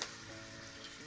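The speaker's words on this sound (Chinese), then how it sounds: "油热了呀，可以放红薯了" Sweet potatoes hit hot oil in a pan, producing a brief, dense, even sizzle that lasts about a second, close but fairly quiet.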